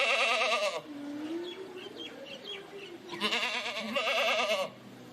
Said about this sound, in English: Get the goats. Herd the goats in.